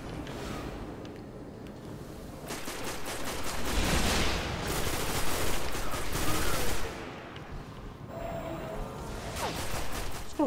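Rapid bursts of gunfire from Destiny: The First Curse, loud and close, with fusillade-like volleys swelling in the middle and easing toward the end, a whooshing texture between shots.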